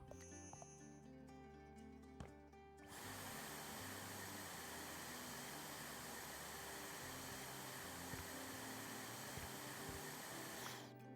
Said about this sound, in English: Okay, vacuum is almost done.